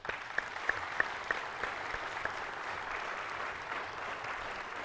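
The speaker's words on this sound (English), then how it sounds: "And that's something to congratulate and to applaud." Moderate, steady applause from an audience at an ice hockey Hall of Fame induction ceremony, with a few distinct sharp claps near the start and a fairly distant, roomy feel.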